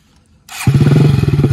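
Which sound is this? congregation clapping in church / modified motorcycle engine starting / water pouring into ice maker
modified motorcycle engine starting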